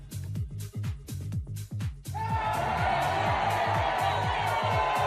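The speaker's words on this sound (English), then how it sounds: "It's supposed to be booing." A crowd booing sound effect plays under music with a steady beat: a dense, continuous wall of crowd voices swells in about halfway through and holds at a steady level to the end.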